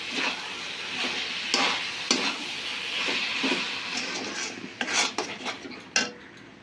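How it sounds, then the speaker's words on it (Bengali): Patishapta pitha batter being mixed with date palm nolen jaggery, heard as a continuous wet whisking and stirring in a bowl, with a few clinks of a spoon against the rim near the end. The sound is close, and no one speaks. "আর একটু খেজুরের নলিন গুড় দিয়ে দিচ্ছি সব কিছু আমি ভালো করে মিশিয়ে নিই"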